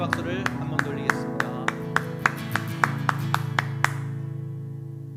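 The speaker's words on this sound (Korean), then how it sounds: "하나님 앞에 찬송의 박수를 한번 돌리겠습니다" A congregation claps in praise during a Sunday church service, giving a steady run of sharp, evenly spaced claps over a sustained musical drone, stopping abruptly with the music ringing on.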